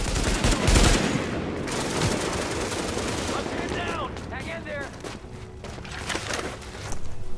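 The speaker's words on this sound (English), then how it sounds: "assault rifles thump and boom in your chest" Rapid bursts of assault rifle fire from the video game The Division crackle and thump, dense at first then scattered, with a voice speaking over the shooting and chirping sounds between volleys.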